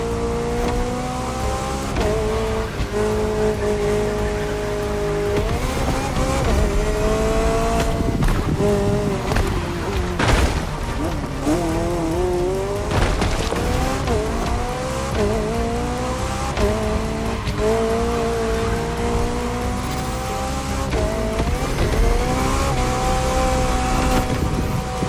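An open-top luxury car is driven hard in The Crew Motorfest, its engine droning loud and steady throughout, with pitch sweeps as it shifts and accelerates and tires squealing through corners, with no voices.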